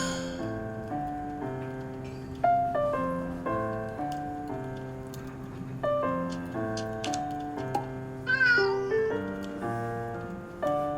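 A cat character in a video game gives a few short meows over looping, plinking game music with steady ticking notes.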